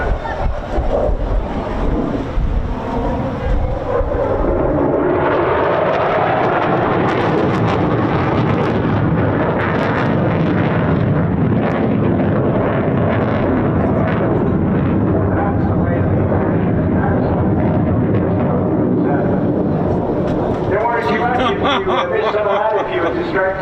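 A Eurofighter Typhoon jet pulls up at an airshow, a loud roaring surge of engine power swelling and then fading as it climbs, with wind buffeting and a commentator talking over it throughout.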